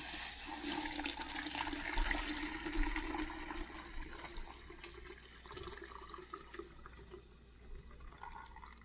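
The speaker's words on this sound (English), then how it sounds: "it has boiled, so now I'm going to pour it in" Boiled Kenyan tea pours and splashes steadily for several seconds, a continuous watery rush with some gurgling, fairly close and moderately loud.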